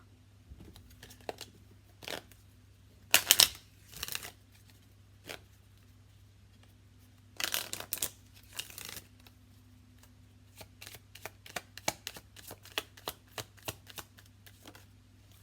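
Tarot cards being shuffled and drawn, with soft scattered riffles, slaps and papery flicks in irregular bursts over a low steady background hum.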